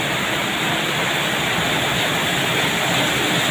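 Heavy rain pouring down with floodwater flowing and seeping around a house, a dense, loud, unbroken hiss of water that fills the whole clip evenly without pauses.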